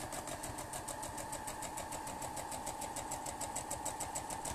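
A sewing machine backstitches and then stitches forward along a Morsbag fabric shopping bag, its fast, steady mechanical chatter running evenly and close throughout with no talking.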